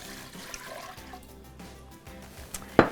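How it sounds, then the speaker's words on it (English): Milk poured into a saucepan for protein eggnog, a soft close liquid trickle running steadily for a few seconds before a brief louder clatter at the end. "So I'm gonna pour in my milk here."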